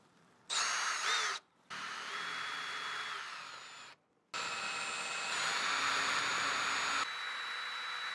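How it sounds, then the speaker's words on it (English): A power drill bores a hole in a 2015-2019 Ford Mustang S550 for a seatbelt guide mod, loud close whining bursts separated by brief pauses, the motor pitch shifting as it bites. "Just drill."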